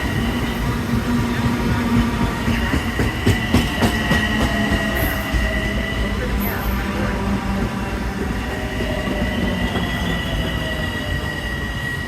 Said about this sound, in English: As soon as the train comes and I get on board